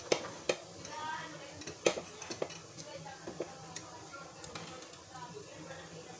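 A pot of food boils and sizzles on the stove with a soft, continuous bubbling hiss, broken by scattered sharp clinks of a utensil stirring against the pot.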